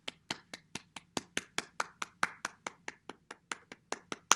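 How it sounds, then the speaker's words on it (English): A class of young children at a morning meeting clap their hands in a steady run of about eighteen sharp, evenly spaced claps, close and clear with no talking. "Okay, I'm seeing lots of claps."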